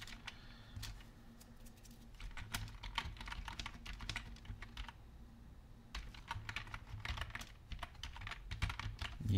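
Typing on a computer keyboard, with irregular bursts of quick, light key clicks separated by short pauses, close and fairly faint, no voices.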